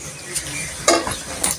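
Vegetable curry stirred in a hot pan, a soft sizzle running throughout with a few brief scraping stirs and louder bursts of spatter near the middle and end.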